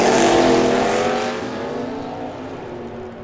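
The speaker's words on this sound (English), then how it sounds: "driving that 83 Mustang with a 351 Windsor" Loud, close roar of a 1983 Ford Mustang with a short wheelbase and a 351 Windsor V8 launching in the right lane at a drag strip. The engine note is harmonic and powerful, strongest at first and then easing a little as it pulls away.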